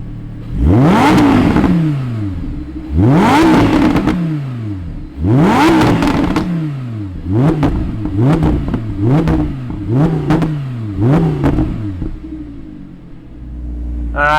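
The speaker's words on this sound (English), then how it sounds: "Let's hear what 10 cylinders sound like firing up." A 2020 Audi R8 V10 engine cranks and catches, then several sharp revs rise and fall in quick succession, loud and close, each bark followed by a settling idle rumble.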